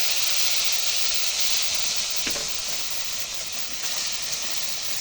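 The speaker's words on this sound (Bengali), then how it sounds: "দেখুন বন্ধুরা, এবার আমরা এটাকে তেলে দিয়ে দিলাম" Continuous loud hissing sizzle of a khichuri tempering of fried onion, dal and spices in hot oil, steady and close throughout with a brief clatter partway.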